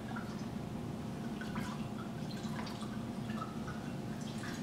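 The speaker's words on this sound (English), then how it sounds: "We're gonna fill our glass halfway with red wine." Oak-aged red wine is poured into a glass, a soft continuous trickle and splash of liquid with faint drips, quiet and close, with no talking.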